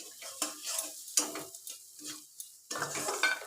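Gobindobhog rice being dry-fried and stirred in a pan with green chili, giving soft scraping stir strokes and light sizzle in short bursts, with a fuller, steadier frying stretch near the end, close and moderately quiet, no talking.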